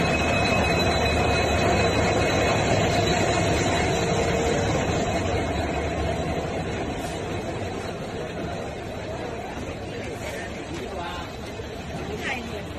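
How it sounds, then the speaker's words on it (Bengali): A long-distance Silchar to Thiruvananthapuram train runs along the line, heard from inside the carriage. A continuous rumble and rattle of wheels on rails fills the scene, with a babble of passengers' voices underneath. "এইখন ট্রেন হল শিলচর টু ত্রিবেন্দ্রপুরম"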